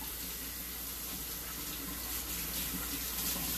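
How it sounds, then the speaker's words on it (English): Tap water runs steadily into a kitchen sink while hands are washed beneath it, a continuous close splashing hiss with no voices. "let me wash my hands just again"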